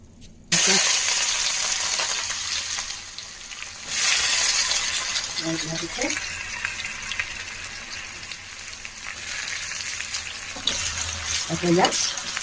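Onions, chillies and bay leaf sizzle steadily in a hot pan of oil while cooking paneer, with a continuous hiss broken by a few stirring scrapes and a soft voice now and then.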